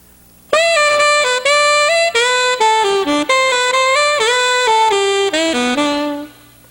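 A solo saxophone plays a flat, steady melodic line in a high register, notes held evenly with little swell or vibrato, then it stops.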